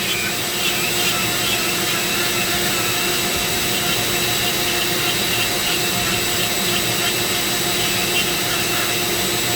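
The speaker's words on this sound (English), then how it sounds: "my Dremel 4300 that's powering the whole process" Dremel 4300 rotary tool on a flex shaft carving padauk wood, a loud, steady high-pitched motor whine with grinding that holds without a break from start to finish.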